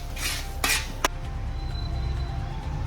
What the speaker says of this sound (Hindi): तब तक हम मीडियम गैस में ही देखो इनको ऐसे चलाते रहेंगे